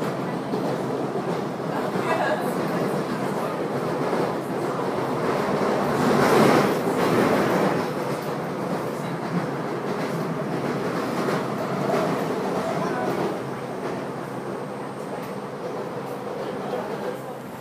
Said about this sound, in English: I believe the train's here